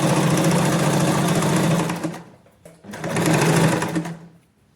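An electric sewing machine runs in two steady bursts while stitching the lining of palazzo trousers, a fast, even mechanical whir with a short pause between runs, close and loud, no talking.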